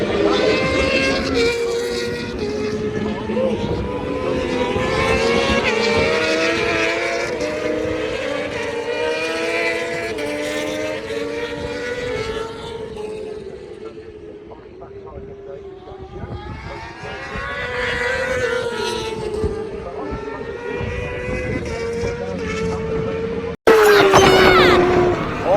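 British Superbike racing motorcycles at Donington Park in 2021 scream past the trackside in succession, their high-revving engine notes rising and falling as each bike approaches and fades. The sound continues almost without a break, with an abrupt cut near the end.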